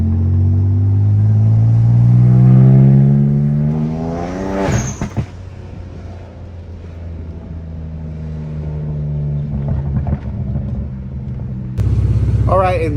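A car accelerates from inside, its engine rising through the gears in a loud climbing rumble, then easing off to a steady cruise before another brief surge, while a person talks over it.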